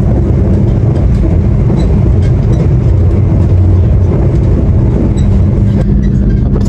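Heard from on board the Senja Utama Solo train as it pulls into Sumpiuh station, a loud, dense rumble of the rolling carriages with steady rattling and clanking of wheels on track, continuous and close.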